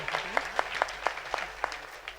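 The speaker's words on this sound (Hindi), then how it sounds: "इनके लिए भी जोरदार तालियां हो जाए।" Sparse, rhythmic clapping from a small gathering at a Hindu Ram Katha religious discourse, a handful of distinct claps spaced evenly over a low background hum.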